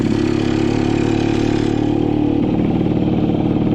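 Steady idle of a repaired motorcycle engine used for hauling goods, a loud close putter with even low pulses that shift to a slightly rougher tone partway through, no talking.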